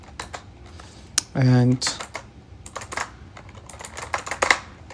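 Close computer keyboard typing as commands are entered, a quick patter of key clicks with a short burst of continuous noise partway through, under a man's intermittent speech.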